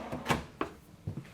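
A few short knocks and slides, like a kitchen drawer in a 2026 Keystone Montana 3100RL fifth-wheel trailer being pulled open and pushed shut, fairly close and quiet.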